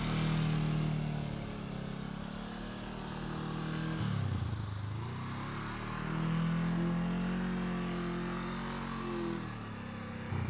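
A motorcycle engine hums during slow speed riding practice, a steady low drone that swells and dips as the throttle is held and eased, heard from a moderate distance with no talking.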